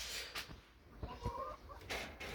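Hens clucking in short, irregular bursts at close range, with a few louder squawks scattered among them.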